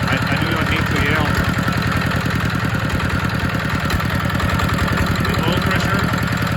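A ZR185 Chinese single-cylinder diesel engine idles right after a cold start, with a loud, steady, rapid chugging beat that stays even throughout, close by.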